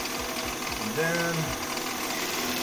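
A woodturning lathe spins as a tool cuts a wooden frame for stained glass art, giving a steady mechanical hum with a few quick low knocks and a brief rising whine midway, close and even in level.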